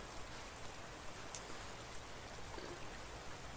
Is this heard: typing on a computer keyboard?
no